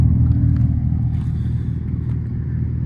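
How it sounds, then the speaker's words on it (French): A low, steady synthetic engine rumble plays continuously from a rear speaker on a Dodge Charger EV, a droning hum at moderate loudness with faint clicks over it. "Il y a un écouteur à l'arrière qui fait le bruit d'un moteur."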